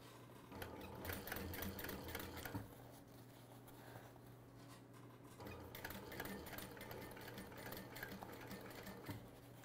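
A sewing machine top stitches around a fabric bag in two fast, steady runs with a short pause between, its rapid needle patter close and fairly quiet.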